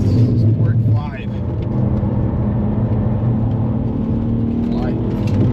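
A track car built on a Pilot Sport 5–shod chassis revs hard near the top of its tachometer, a steady loud engine drone that dips briefly then holds high under ongoing conversation.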